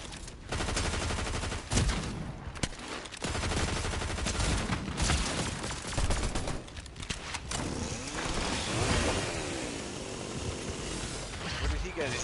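Shotgun fire in the Fortnite video game, loud blasts within dense, continuous gameplay noise, with a voice talking over it.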